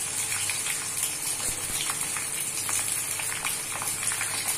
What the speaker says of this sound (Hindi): भिंडी जैसे जैसे रोस्ट होगा तो प्याज भी हमारा रोस्ट हो जाएगा।